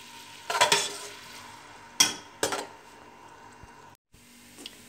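Ginger garlic paste fries in a pan for beef nihari while a utensil stirs it, with a low sizzle underneath and a few sharp scraping clanks against the pan.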